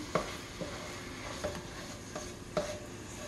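Irregular knocks of a utensil chopping sausage against a pan, a handful of sharp taps spaced unevenly over a soft background sizzle.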